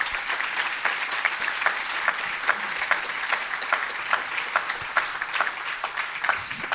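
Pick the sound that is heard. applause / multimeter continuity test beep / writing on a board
applause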